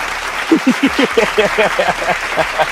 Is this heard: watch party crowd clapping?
yes